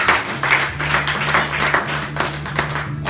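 A church congregation claps in quick, steady rhythm, loud and close, with a low sustained musical tone running underneath.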